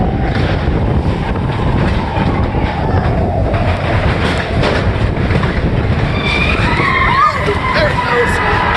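Matterhorn Bobsleds roller coaster at Disneyland rattles and clatters along its track up close, with rumbling wheels, rhythmic clicks and brief screeching squeals, and riders' voices under the noise.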